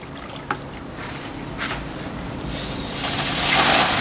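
Softened clay sludge from Texas red beds is poured out, starting as a faint trickle and swelling into a steady, louder wash of liquid over several seconds.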